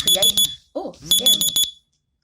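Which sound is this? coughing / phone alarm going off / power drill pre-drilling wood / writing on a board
phone alarm going off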